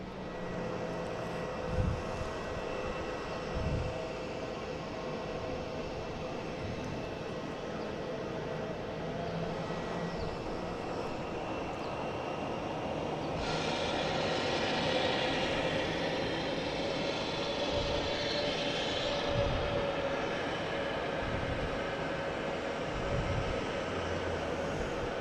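An Alaska Airlines jet with One World special livery arrives from Portland at Boston Logan, its engines a steady distant roar that swells in a broad hiss midway before easing off, with no talk.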